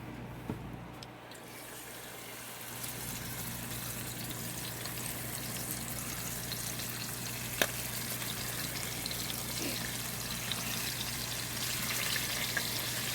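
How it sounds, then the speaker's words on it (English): Whole seasoned catfish fry in a hot skillet with a steady, close hiss of sizzling oil, broken by a few faint pops and one brief sharper crackle. "these whole fish are all seasoned up and ready to put in that hot skillet"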